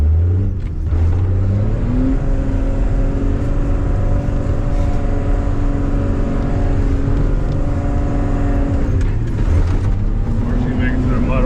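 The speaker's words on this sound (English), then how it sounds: "Yeah, that's what's spinning the tires right now." A first-generation Cummins truck spinning its tires in a mud hole, its engine droning loud and close with a continuous roar that climbs and falls in pitch as it revs, with voices over it.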